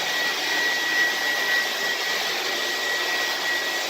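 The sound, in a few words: vintage 1970s Air Way Sanitizor Mark V vacuum cleaner running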